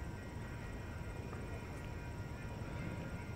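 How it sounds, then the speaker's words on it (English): A train approaches on a railroad bridge at Perry Island, a steady low rumble and roar filling the scene, distant but constant, with no talking. "Oh yeah, train coming."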